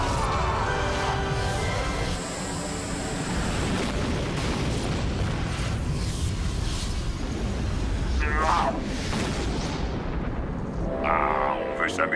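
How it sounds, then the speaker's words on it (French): A cartoon laser cannon fires in an underwater battle, a loud, dense, continuous blast of rumbling, crackling energy lasting many seconds, with higher zapping whines surfacing near the end. "Et maintenant, canon à laser!"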